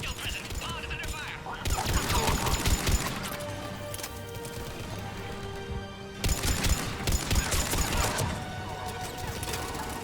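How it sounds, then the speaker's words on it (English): Battle gunfire from Mass Effect 3, dense bursts of shots and clattering weapon mechanisms in waves, loud and close, with faint radio voices mixed in. "Under heavy attack."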